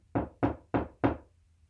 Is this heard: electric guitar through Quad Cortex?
no